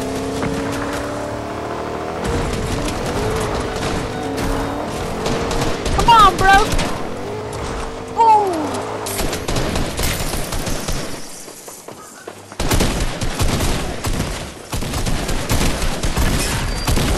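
Gunfire in the Fortnite video game, with bursts of shots mixed into a busy, loud scene of engine-like noise and game effects while a person talks over much of it.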